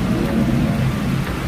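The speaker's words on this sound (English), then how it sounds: "I can't even believe it's raining that heavy outside." Heavy rain falls outside, a dense, steady hiss with a low rumble beneath, close and loud with no talking.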